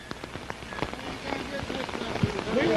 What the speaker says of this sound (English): The rain is at its height.